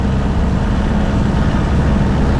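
Small aircraft engine runs up to 2,000 RPM, a loud, steady low drone close by and alone with no change in tone.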